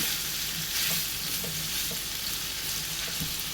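Ivy gourd pickle sautés in a pan over a low flame, a soft continuous sizzle with a few faint scraping stirs, fairly quiet and close, no voices.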